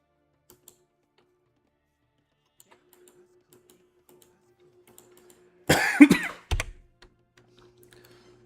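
A single close cough bursts out of a near-silent room, followed a moment later by a shorter second cough, with faint clicks and thumps scattered before it.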